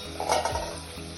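Broad bean and tomato curry being stirred as it fries in a pan: a short burst of spoon scraping over a steady, close sizzle, with no voices.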